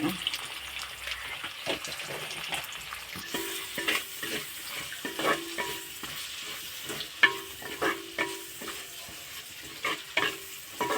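Onions, curry leaves and cumin frying in a pan for a ladies finger curry, with a steady sizzle and repeated scraping stirs that tap in an uneven rhythm, fairly close.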